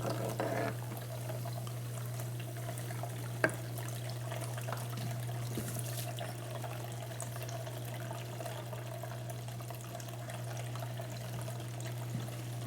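Steady running water flows continuously over a gold sluice table under a low constant hum, with a few small clicks and taps along the way.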